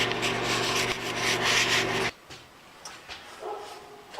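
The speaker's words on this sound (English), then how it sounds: "throw it in the saw and saw that ½ inch off and end up with a nice big old fat washer" Sawing a half-inch-thick washer off a metal piece: a loud, steady rasping cut for about two seconds that stops abruptly, followed by a quieter room with a few small clicks and knocks.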